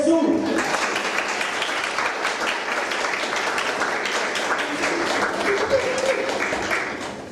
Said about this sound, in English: Let us give a big applause to Mr. Karthigesu.